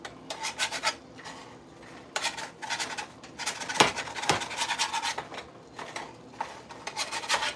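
Repeated rasping scrapes of a utensil working baked potato skins loose from an ungreased pan, several short bursts of scraping separated by pauses, close and clear with no talk.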